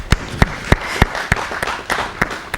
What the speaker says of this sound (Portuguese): A nossa plateia também merece uma salva de palmas.